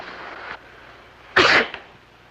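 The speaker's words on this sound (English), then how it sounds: "you sneezed." A single sharp sneeze bursts out after a soft breathy lead-in, close and loud.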